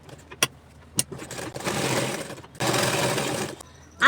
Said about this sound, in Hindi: बिल्कुल ये बकरूम के किनार होके हमें सिलाई लगाना है ऐसा